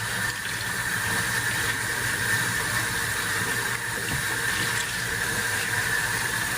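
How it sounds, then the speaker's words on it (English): Tap water runs steadily into a kitchen sink holding cabbage and kale greens, a continuous loud hiss and splash lasting the whole stretch with no talking. "I'm going to add a little bit more water. It may get a little noisy"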